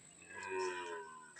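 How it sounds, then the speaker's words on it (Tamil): A calf moos once, a single drawn-out bellow that swells in the middle and tapers off, close and clear with nothing else around it. "கண்ணுட்டி வேறு டைம் ஆகுதுன்னு கத்துறாங்க பாருங்கள்."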